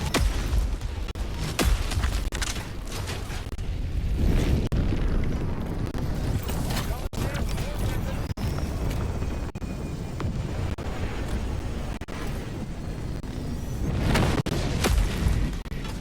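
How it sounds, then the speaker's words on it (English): A vehicle called down in Helldivers lands amid heavy, rumbling explosions and booms, with sharp cracks and bursts layered over continuous low thunder throughout. "Calling down a vehicle."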